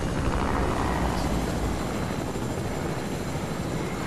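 Helicopter in the video game Fortnite, a steady rotor and engine drone heard fairly faintly and continuously, unchanging in level, with no talking.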